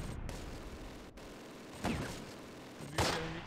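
Gunfire in the World War II video game Close Combat, a few separate distant shots and blasts spaced about a second apart over a dull rumbling battlefield bed.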